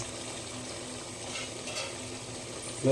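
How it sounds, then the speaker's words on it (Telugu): Chicken frying and simmering in a pan for a Sunday meal, giving a steady close bubbling sizzle throughout with no talk, and a brief louder clatter right at the end. "చికెన్ అయితే ఉడుకుతుంది"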